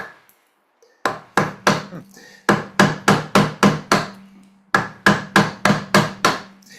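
Wooden mallet tapping a carving chisel into timber, cutting at an increasing angle: a steady series of sharp, close knocks in quick bursts of three to six, separated by short pauses.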